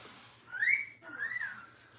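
A pet cockatiel, a small gray parrot, gives two clear rising-and-falling whistles about half a second apart, fairly close in a quiet room with no talk.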